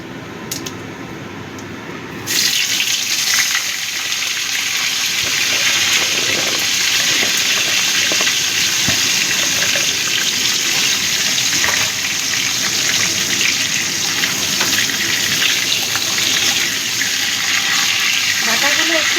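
Vegetable stalks go into hot oil in a wok after a moment of quiet, setting off a sudden loud, continuous hiss of frying that holds steady to the end, with some talking underneath.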